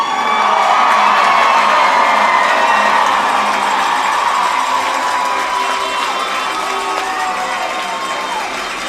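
A stadium crowd cheers for the Danville Blue Devils, 2026 Ohio Division 6 softball state champions, with whoops and shouts in a steady, loud, dense roar that fades slightly toward the end.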